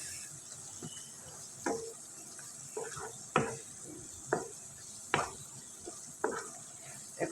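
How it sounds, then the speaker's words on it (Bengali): A spoon repeatedly scrapes through shahi roast masala and onions in a pan while cooking quail roast, making about ten distinct strokes at a steady rhythm over a soft sizzle. "এখন আমি মশলাটাকে ভালোভাবে নাড়াচাড়া দিয়ে পেঁয়াজটা যাতে মজে যায় সেজন্য এখানে ডিপ করে রাখবো"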